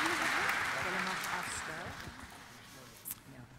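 Congregation clapping in an Afrikaans church service, a broad steady wash of applause that slowly fades over a few seconds, with voices talking over it.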